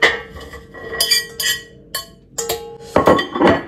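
Browned beef, lardons and red onion are tipped back into a cooking pot in a country cottage kitchen, giving a run of clinks, scrapes and knocks of a utensil against the pot, close and fairly loud with short pauses between bursts.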